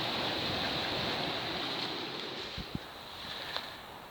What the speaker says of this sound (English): and there's the river down there.